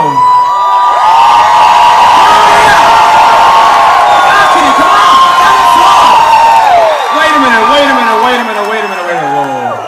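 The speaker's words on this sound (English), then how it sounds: "Come on, scream." A large concert crowd at a tribute show screams and cheers loudly and continuously, a dense roar of many voices with shrill whoops rising over it, fading slightly near the end.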